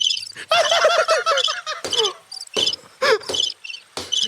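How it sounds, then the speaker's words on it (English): Crickets chirp as a sound effect in short, bright, repeated bursts with irregular gaps, loud and close, mixed with sweeping squeaky calls and no talking. "Where are the crickets at?"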